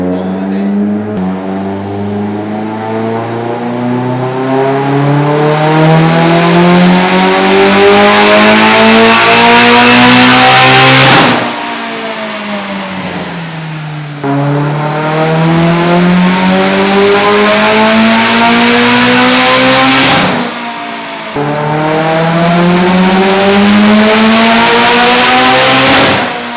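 A Mitsubishi Evo X with a twin-scroll 6466 ETS turbo kit on a stock block runs loud, sustained full-throttle pulls on a dyno, the engine note rising steadily through the revs, cutting off abruptly, then climbing again twice more.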